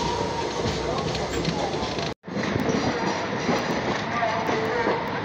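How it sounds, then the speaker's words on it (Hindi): Shramjeevi Superfast Express of Indian Railways pulling into Bareilly Junction, a dense steady rumble and clatter of rolling coaches close by, with one brief dropout midway. "ट्रेन अपना थर्ड हॉल्ट बरेली जंक्शन पर अराइव होती हुई"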